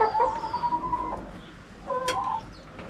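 Hens in a backyard coop give a couple of drawn-out squawking clucks during a brief scrap, close and fairly loud over a low background rumble.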